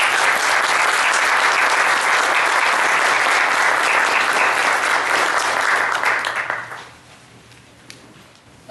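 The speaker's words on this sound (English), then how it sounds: "let's give everybody a round of applause" A church congregation at a Lutheran service breaks into sustained applause, a dense wash of clapping that holds steady for several seconds and then fades quickly into room quiet.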